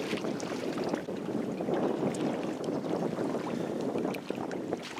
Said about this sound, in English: There's a lot of wind. I'm not sure if the mic is picking that up.